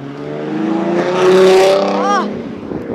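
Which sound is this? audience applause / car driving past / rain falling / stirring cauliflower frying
car driving past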